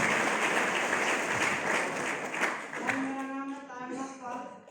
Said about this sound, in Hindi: वाह, जोरदार तालियां इनके लिए।